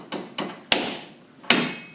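Sharp metallic knocks, four in all with uneven spacing, ring out close by as a wrench works on the rear hub nut of a Mazda MX-5. Each strike is followed by a short decaying ring and there are no voices.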